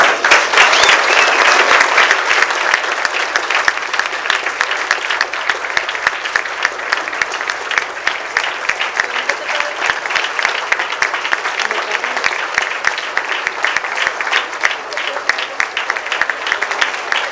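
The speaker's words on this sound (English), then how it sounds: "May we now have a round of applause for these children and for their parents." A banquet audience claps for children and their parents, long steady applause with a crisp, even patter lasting well over fifteen seconds.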